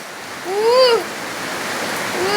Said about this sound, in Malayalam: ഇന്ന് നമ്മളെ വീട്ടിൽ മഴ വീണെന്ന് പെരുമഴയാണ്